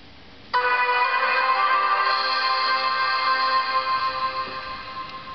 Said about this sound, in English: let me play the login sound once more.